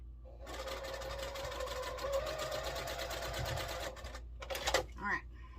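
A sewing machine stitches quilt block rows together in one steady, close run of about four seconds, then stops, followed by a brief fabric handling clatter.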